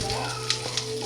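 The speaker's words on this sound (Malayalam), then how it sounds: "അടുത്ത ചെറിയ ഉള്ളി വലിയ ഉള്ളി അരിഞ്ഞ് വെച്ചത് ഇട്ട് മിക്സ് ചെയ്ത് നല്ലപോലെ ഒന്ന് വഴറ്റണം" Chopped small onions and big onions sauté in a pan, a brief crackling sizzle with a couple of light utensil ticks over a low steady hum.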